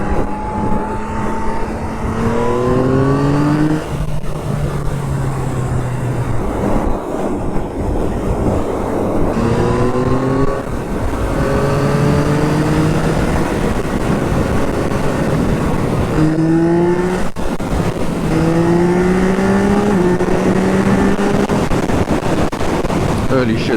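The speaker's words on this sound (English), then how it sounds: "these engines are just absolutely fantastic" An automatic motorcycle engine revs up repeatedly, its tone climbing in rising sweeps as it accelerates through each shift, loud and close against steady road and wind noise.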